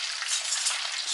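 Chicken wings fry in hot oil in a pan with a steady, bright sizzle that holds at an even level throughout the short stretch.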